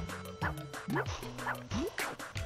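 A dog in a video game based on Beethoven's 2nd barks and yips in a quick, regular series of short calls, close and clear over steady game sounds.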